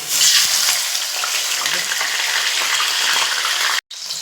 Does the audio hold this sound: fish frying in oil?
yes